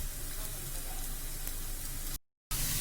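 Potatoes and radish go into a pan of browned onions, garlic and green chilies for a Karnataka-style sambar, giving a steady loud sizzle that breaks off for a moment, then returns.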